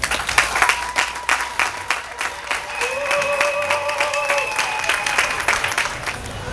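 Applause from an audience celebrating civil weddings at a ceremony, a dense, steady clatter of many hands clapping that holds close and lively throughout, with a few faint voices mixed in.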